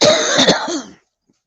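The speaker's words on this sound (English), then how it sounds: "y'all don't need to hear me cough and hack and spit stuff out" A person with sinus trouble gives a few harsh, congested coughs and throat-clearing hacks in a quick cluster, close and loud, followed by near silence.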